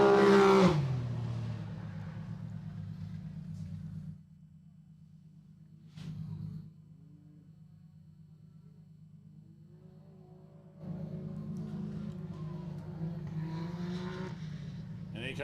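An off-road racing vehicle drones steadily on an SGORA dirt track as it completes a lap. The engine is loud, and the rumble swells again toward the end.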